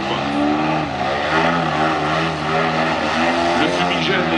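A low-flying aerobatic propeller plane roars past at an air show in Mâcon, its engine drone loud and continuous with shifting pitch, with a commentator's voice faintly under it.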